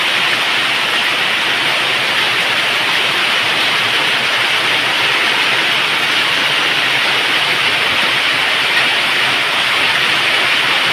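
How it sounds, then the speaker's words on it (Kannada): Heavy rain with wind pours down steadily in a dense, continuous broadband roar that stays loud and close throughout, with no talking. "ಗಾಳಿ ಮಳೆ ಬರ್ತಾ ಇದೆ"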